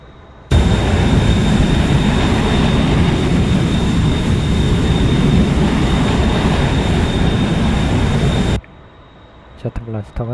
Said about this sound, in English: Jet Blaster가 자동 올라옵니다.